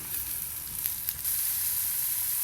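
Chopped onion and tomatoes sizzle in a hot pan, a soft steady frying hiss with a brief stir midway before the sizzle settles evenly.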